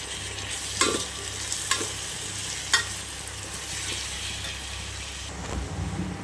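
Chopped tomatoes frying in oil for chicken biryani, a soft continuous sizzle with a few sharp stirring scrapes and clinks of a spoon against the pan, no talking.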